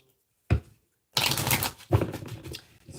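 Romeo and Juliet oracle cards being handled and shuffled: a brief papery flick, a pause, then a longer run of close, crisp riffling and shuffling with a second burst near the end.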